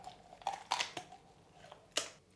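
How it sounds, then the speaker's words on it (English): Kitchen scissors snip through the backbone of a raw chicken in several separate crisp cuts, close and fairly quiet, with no talking. "So I'll get my scissors and I'll put them in there. and I'll cut away."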